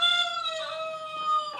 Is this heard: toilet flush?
no